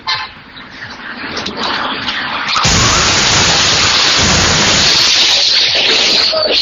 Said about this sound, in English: Bradenton, Florida was hit by heavy rain and repeated waves of strong wind